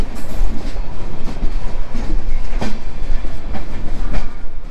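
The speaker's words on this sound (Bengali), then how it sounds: "প্রায় 1 ঘন্টা 40 মিনিট লেট করে আমাদের ট্রেন এসে পৌঁছালো" A train pulls into Saharanpur station at the end of a long late-running journey, its wheels keeping up a loud, steady clickety-clack rumble with occasional sharper knocks, close and continuous with no voices.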